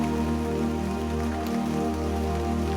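Steady rain pours down in a dense, unbroken hiss, close and even throughout, with no voices.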